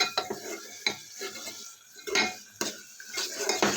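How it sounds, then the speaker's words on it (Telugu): Tomato and ladyfinger (okra) curry being stirred in a pan: repeated scraping and clinks of a spoon against metal, coming in uneven bursts over a low sizzle, close up with no talk. "ఇలా తిప్పుతూనే ఉండాలండి."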